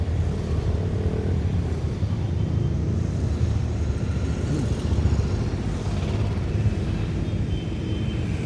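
A loud motorcycle at a charity toy run rumbles steadily and close by, its engine drone continuous throughout.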